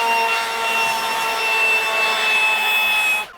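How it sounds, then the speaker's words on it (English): Leaf blower blowing water off the hood of a car without a ceramic coating, a loud steady high-pitched whine with a hissing rush of air that cuts off abruptly at the end. "it's almost ineffective to use a leaf blower on a non-ceramic coated vehicle"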